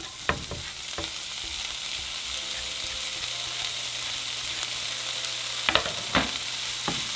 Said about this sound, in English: we're just going to saute them for another couple minutes